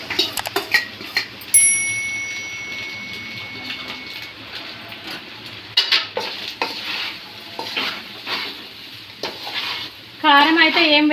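Rice being stir-fried with meal maker in a pan, quiet sizzling punctuated by clattering stirring scrapes, with a brief electronic beep early on and a louder burst of bubbling noise near the end.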